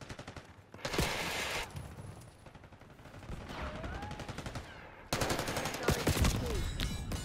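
Video game gunfire in Derelict, rapid automatic bursts and scattered shots crackling densely, loudest in a heavy sustained volley near the end, with a voice briefly heard.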